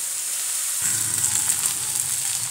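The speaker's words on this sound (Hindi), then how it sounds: "ये जो प्याज लहसुन है ये भून भून लेने बेसिकली" Chopped onion and garlic fry in a hot pan for an okra masala, a steady crackling sizzle that jumps in loudness under a second in and keeps bubbling close and alone.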